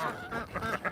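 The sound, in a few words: geese honking while being fed corn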